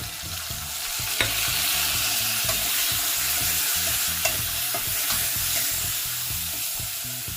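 Ginger paste sizzling and frying in a pan during Bengali green banana curry cooking, a steady bright hiss with a few stirring scrapes and clinks, no talking.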